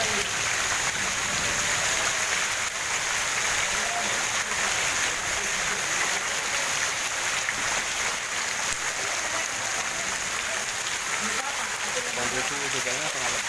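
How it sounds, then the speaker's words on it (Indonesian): Steady heavy rain falls on a flooded street and a house, a continuous broadband wash of drops and splatter that holds level throughout, close by with no clear voices over it. "kondisi hujannya sangat lebat"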